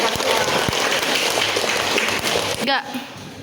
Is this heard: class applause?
yes